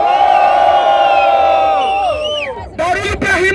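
A crowd at a Brazilian freestyle rap battle in the Seletiva Duelo Z/O qualifier cheers, whoops and shouts loudly and continuously, a dense roar of many voices close by.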